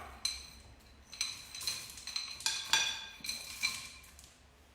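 Easter chocolates such as Smarties or M&Ms for a chocolate tiffin are tipped into a bowl and stirred, making quiet, scattered clinks and rattles against the bowl in irregular bursts, with no talk.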